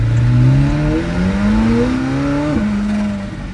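A car engine with an open intake revs steadily upward in pitch to about 3,000 RPM, below boost, then eases off sharply and settles, loud and close with no voices.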